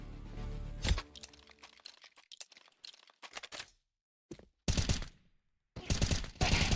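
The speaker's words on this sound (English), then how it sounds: "Both players were trading heavy fire" Heavy gunfire rattles through a competitive video game match in repeated loud bursts and volleys, separated by short silent pauses.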